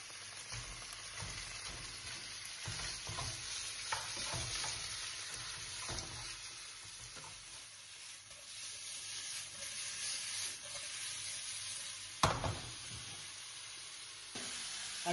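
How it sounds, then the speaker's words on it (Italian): Meat sizzles steadily as it fries in a pan with spices, with scraping stirs and occasional louder crackles, close by, and no one speaking. "Aggiungiamo la carne alle spezie."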